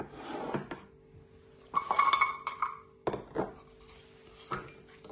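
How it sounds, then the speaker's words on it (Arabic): Diced apple pieces go into a frying pan: a few soft clinks and clatters of fruit and utensil against the pan, separated by quiet gaps, close and fairly faint. "بنحط التفاحة بمقلاي."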